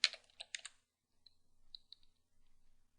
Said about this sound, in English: We'll type in apt-cache space unmet